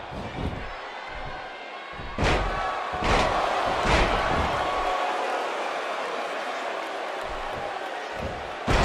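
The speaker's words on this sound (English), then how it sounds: "Pinpoint precision on that elbow drop, right into the center of the chest." Elbow drops and body slams land in a wrestling match, with several heavy, sharp thuds about a second apart over a steady roar of crowd noise in an arena.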